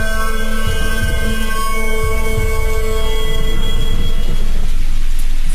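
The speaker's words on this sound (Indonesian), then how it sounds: "dari suasana hening yang hanya terdengar suara hujan turun" Steady rain falls in a quiet horror game setting, a dense continuous hiss with low rumbling underneath, with a faint tonal hum running through it and no voices.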